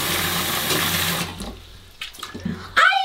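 Shower water splashes over an iPhone 15 Pro Max in a steady hiss that cuts off after about a second, leaving quiet drips and small knocks before a brief sharp squeak at the end.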